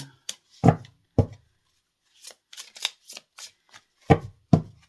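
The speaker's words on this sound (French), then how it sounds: "j'adore taper mes jeux comme ça quand je les mélange" A deck of tarot cards is shuffled and tapped on a surface, sharp close taps and riffling bursts coming in irregular clusters separated by silent gaps.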